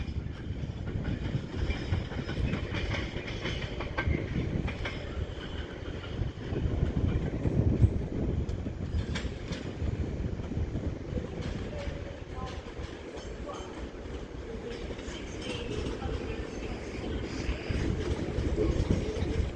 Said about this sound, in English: And then also down there is a Northern Class 323. Terminating in with a service from Crewe via Stockport.